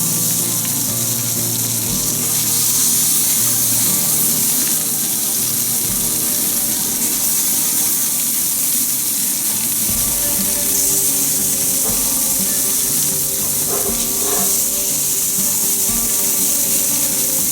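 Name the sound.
kofta cooking on a griddle on medium heat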